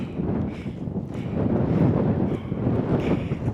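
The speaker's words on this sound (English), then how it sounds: "It's very cold and windy, raining." Steady wind buffets the microphone on a cold, rainy mountain pass along the Continental Divide Trail, a low, rumbling roar that swells and eases, with no voices.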